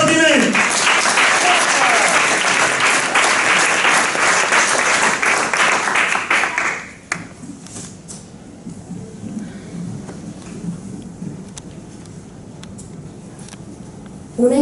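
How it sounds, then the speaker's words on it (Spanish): Loud, dense applause from an audience at a live poetry competition semifinal in Valencia, lasting about seven seconds before dropping to quiet room noise with faint rustling, a brief voice returning at the end. "Nuestra siguiente poeta es Danae Del Petro, un fuerte aplaudimiento."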